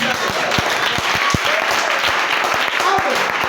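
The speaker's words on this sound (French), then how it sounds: "Acclamons la parole." A church congregation claps steadily in a dense, continuous round of applause filling the room, with individual sharp claps standing out and voices mixed in.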